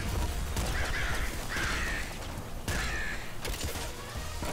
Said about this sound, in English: So we'll try and kill some of these crows the traditional way